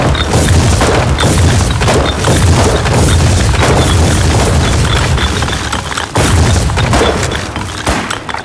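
A building collapses in a video game after a single rifle hit, a loud continuous booming crash with rumbling debris that keeps rolling for several seconds before a second heavy surge.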